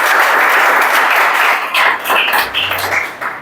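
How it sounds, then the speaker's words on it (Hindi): An audience of students claps together in a classroom or coaching session, a dense, loud burst of applause that fades and flutters out toward the end. "ताली बजाओ भाई"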